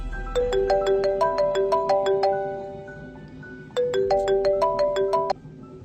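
A mobile phone plays a bright, repeating melodic ringtone in two clear bursts separated by a short pause, loud and close.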